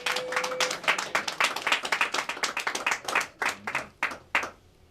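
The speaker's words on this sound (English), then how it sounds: "Let's give him a round of applause." A small gathering gives a round of applause for a 99-year-old man, a modest group clapping close by in quick rhythmic claps that thin out to a few last scattered claps before stopping.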